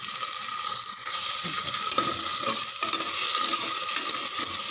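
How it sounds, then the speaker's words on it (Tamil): Chopped onion, two tomatoes and curry leaves sautéing in a pan for Indian snake gourd dal kootu, a steady close sizzle with stirring scrapes and no talk. "2 செகண்ட் நல்லா வதக்கிடுங்க"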